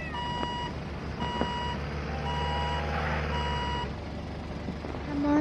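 A lorry reversing in the game Wobbly Life sounds a series of loud, evenly spaced electronic beeps over a low, steady engine rumble, with a brief hiss near the end.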